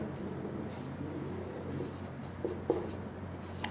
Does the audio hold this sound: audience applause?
no